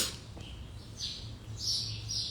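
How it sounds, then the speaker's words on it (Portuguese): Small birds chirp outdoors in short, bright bursts at moderate distance, a few calls overlapping over a faint steady background hum. "aqui cheio de pássaros"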